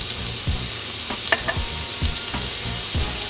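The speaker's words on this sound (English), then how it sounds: "We're gonna add our 1/2 teaspoon of fennel seeds" Fennel seeds sizzle steadily in a hot pan with onions, a constant frying hiss broken by regular stirring scrapes and taps of a utensil, close and with no talking.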